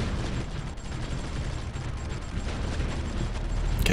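Continuous dense rumbling barrage of artillery fire from a strategy war game, loud and sustained with overlapping booms and no pauses throughout.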